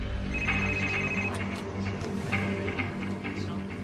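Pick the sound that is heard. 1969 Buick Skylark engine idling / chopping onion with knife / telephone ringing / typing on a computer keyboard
telephone ringing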